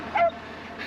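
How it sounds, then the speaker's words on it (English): A dog on a rural Australian pasture property gives a single short, sharp bark or yip, fairly close, with no voices and only quiet open-air background around it. "There's dogs around."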